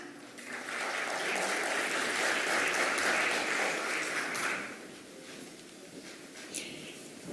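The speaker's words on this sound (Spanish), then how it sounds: "Para todos ellos, un aplauso de bienvenida." Welcoming applause from a forum audience, a steady broad wash of clapping that holds for about four seconds, then thins into scattered claps and room noise.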